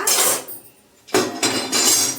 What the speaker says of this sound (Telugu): ఇవన్నీ గిన్నెలు నేను డ్రై అవ్వాలనేసి ఇలాగ పెడతానమాట